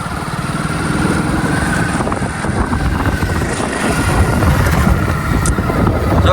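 A motorbike on a village road produces a loud, steady engine drone close by, holding at an even level throughout with no clear rise or fade.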